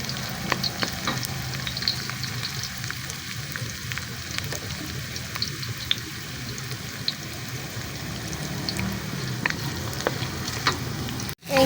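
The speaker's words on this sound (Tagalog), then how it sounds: "Gisa-gisa lang natin konti, guys." Desi chicken sautéing and browning in a large wok-style pan for tinolang manok, a loud continuous close sizzle with scattered pops and spatters, no talking.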